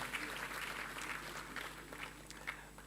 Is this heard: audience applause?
yes